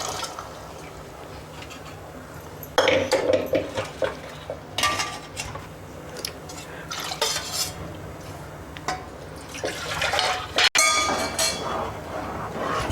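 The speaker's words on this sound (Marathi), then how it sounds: "आता पाणी टाकायचं" Water goes into a pot of urad dal cooked in a spiced tadka, a splashing pour under clattering of the pot and spoon, with bursts of stirring and a sharp knock near the end, no talking.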